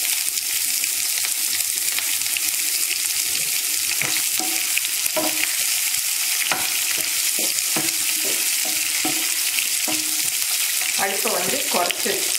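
Long-sliced onion sizzles steadily in hot oil alongside fried urad and chana dal for a Tamil rava vegetable kichadi, a loud continuous crackle with occasional stirring scrapes.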